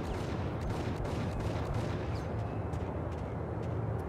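Max Payne gameplay with the player under fire, a dense continuous roar of gunshots and rumbling blasts that blur together into a steady loud wash, with no speech.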